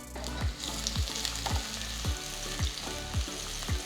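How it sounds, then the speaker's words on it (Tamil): Thinly sliced garlic sizzles in a tablespoon of hot oil in a kadai, a steady crackling fry punctuated by regular scraping stirs roughly every half second, close and moderately quiet. "அடுத்து கடாயில் 1 டேபிள் ஸ்பூன் எண்ணெயை ஊற்றி நெக்ஸ்ட் மெலிசா நறுக்கின பூண்டு போடுங்க"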